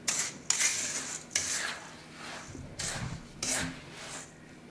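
Graham crumbs and coconut mixed into a Nanaimo bar base: repeated scraping and rubbing strokes of a utensil against a bowl in uneven bursts, close and quiet, no talking.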